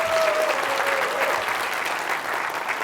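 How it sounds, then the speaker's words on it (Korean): A lecture audience at a taekwondo instructors' talk breaks into a hearty round of applause for a doctor, a thick, sustained clatter of many hands that holds level and fades slightly. "우리 손성도 박사님께 큰 박수로 응원해 주시면 감사하겠습니다"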